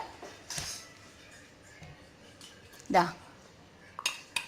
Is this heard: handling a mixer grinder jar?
yes